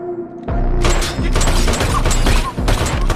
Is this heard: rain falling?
no